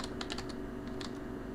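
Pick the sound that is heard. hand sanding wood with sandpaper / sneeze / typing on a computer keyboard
typing on a computer keyboard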